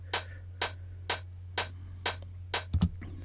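A programmed beat of layered hi-hats with a second hi-hat sample added, six crisp, evenly spaced bright ticks over a steady low hum, ending in a quick double hit, dry and close.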